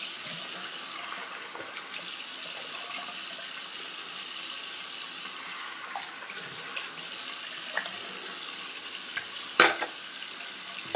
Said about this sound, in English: A little cold water rinse.